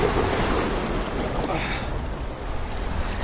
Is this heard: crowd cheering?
no